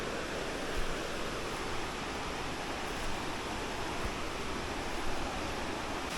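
Tumpak Sewu waterfall in East Java, heard as a steady, dense roar of falling water that stays even and unbroken throughout, with no voices over it.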